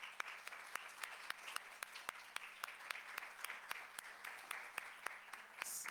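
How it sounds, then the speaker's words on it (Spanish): Audience applause at a university human rights competition closing ceremony in Mexico, a steady patter of many hands with sharp individual claps standing out, moderately distant and lasting several seconds. "Solicito a todas y a todos que le den un fuerte aplauso a Sara."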